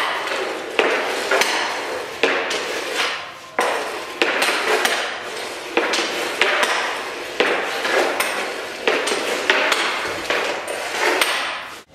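A hockey stick blade stickhandling a puck off the ice, giving a steady run of sharp wooden taps and thwacks roughly every half second to second, close and loud with no talking.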